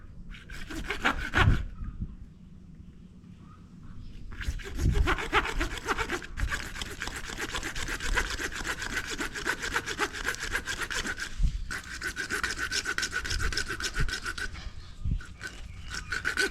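A hacksaw blade cuts a broken pipe that flooded a home with rhythmic back-and-forth strokes. It comes in bursts broken by short pauses, fairly close and moderately loud.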